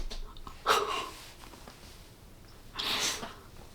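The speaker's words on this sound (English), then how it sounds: "She's sneezing up a storm over here." A woman sneezes twice indoors, a sharp close burst followed after a pause by a second, breathier one, set off by a freshly sprayed perfume.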